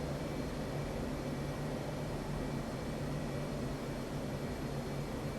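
Jet aircraft engine in the DCS flight simulator during a carrier Case 1 recovery, throttled back with speed brake out, a steady broadband roar with a faint constant hum, unbroken and moderately quiet, no voices.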